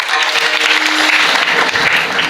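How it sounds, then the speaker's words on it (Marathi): A crowd at the Sant Marotrao Maharaj silver jubilee festival at the Shri Dnyaneshwar Maharaj samadhi temple breaks into loud, dense applause, a continuous near wash of many hands clapping throughout. "सगळ्यांनी टाळ्या वाजवा."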